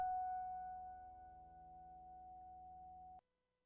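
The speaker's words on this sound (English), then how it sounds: "this is just like a harmonic noise" A harmonic noise layer for ambient sound design holds one steady tonal drone with stacked harmonics that fades slightly and then cuts off abruptly near the end, with no voices.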